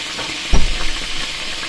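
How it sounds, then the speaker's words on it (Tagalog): Garlic dropped into leftover frying oil in a pan bursts into a loud sizzle, then settles into a steady close frying hiss. "Yung pinagprituhan, dyan na rin tayo magigisa."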